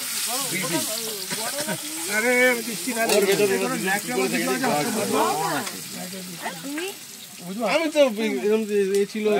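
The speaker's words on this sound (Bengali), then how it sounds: "আলু ভাজা হচ্ছে, এখানে খানিকটা হয়ে গেছে ভাজা" Potatoes sizzle in a pan at a mountain campsite, a steady hiss running beneath a voice that talks almost throughout.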